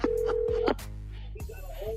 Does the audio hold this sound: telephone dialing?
yes